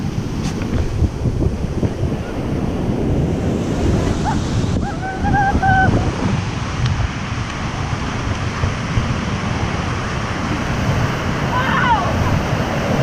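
Ocean surf breaking on a beach, a continuous loud roar of crashing and washing waves with wind buffeting the microphone, while a few faint voices and short whistle-like tones sit under it.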